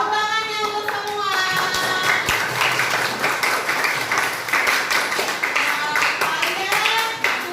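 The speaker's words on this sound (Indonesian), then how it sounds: "Ya, tepuk tangannya untuk semua." Students applauding together in a classroom after presentations, a dense, sustained round of clapping from many hands nearby, with children's voices and cheers mixed in throughout.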